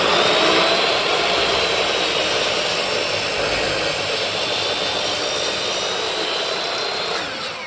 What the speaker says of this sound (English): I'm going to do that on the miter saw, and we're going to see how well the dust collection is working here